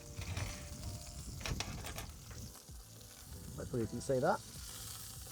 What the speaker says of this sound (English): Now I've got a bit of a sear on one side.